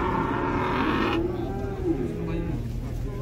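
Cattle low in a long, steady moo close by at a busy livestock market, the sound rising and dipping under constant crowd noise and background chatter.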